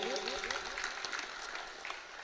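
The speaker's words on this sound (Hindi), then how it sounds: "दोबारा ताली बजाएं श्री वासुदेव जी के लिए" An audience at a religious gathering claps for a donor, a dense patter of applause running throughout beneath a speaker's voice.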